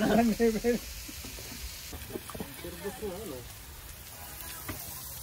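Steak frying in a pan for supper at a campsite gives off a steady, soft sizzle and crackle, continuous and fairly quiet beneath people talking nearby.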